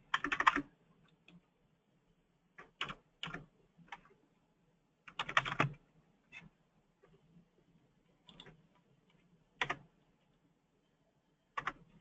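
Quiet, scattered bursts of typing on a computer keyboard, with short clusters of key clicks separated by pauses and no one talking.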